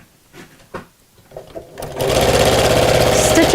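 A sewing machine stitches fleece for a messenger bag, starting after a few soft handling knocks with a loud, fast, steady mechanical whir that runs on close and uninterrupted.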